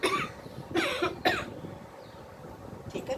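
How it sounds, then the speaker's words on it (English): A person coughs into the wrist, a few short close coughs in quick bursts followed by a quieter one, with no talking. "So cough on your wrist."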